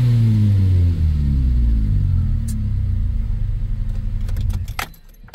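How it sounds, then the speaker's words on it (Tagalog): A Hyundai Starex van with a starting problem idles with a low, loud rumble, then the engine is switched off and dies away, followed by jangling keys and brief clicks near the end. "patayin natin yung makina"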